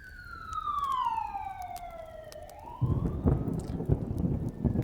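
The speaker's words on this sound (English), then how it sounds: "The sirens are getting closer" A police siren wails and slowly sweeps downward in pitch, fairly faint at first. A crackling, rain-like patter then rises underneath it as the siren fades.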